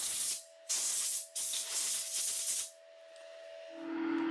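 Compressed air sprays in three loud hissing bursts to blow cleaned parts dry, with short pauses between blasts before a softer, steadier hiss near the end.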